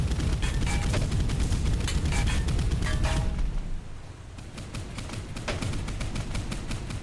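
Rapid gunfire rattles in the naval combat game Boat Crew, with dense bursts of sharp shots and booming impacts, a brief lull midway, then sustained firing resumes.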